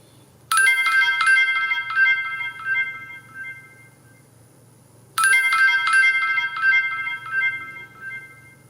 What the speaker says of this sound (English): those sounds are just when it's sending your Wi-Fi information and uploading that to the camera